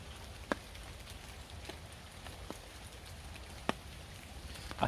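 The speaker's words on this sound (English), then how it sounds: "listen to the rainfall." Steady rain falls on a Luxe sil hexpeak V4 tent during deep woods solo wild camping, a soft constant patter with a few louder single drops striking close by.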